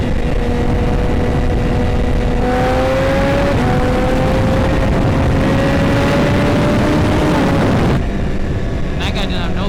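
Several motorcycles leaving a nighttime bike meet, engines droning at a distance with slowly rising pitch as they pull away, under steady road and wind noise from a following bike.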